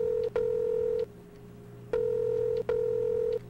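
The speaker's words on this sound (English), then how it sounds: "Let's go call Keith" Telephone keypad tones from the Rewind Or Die video game: four steady dialing beeps in two pairs, clear and alone with no talk.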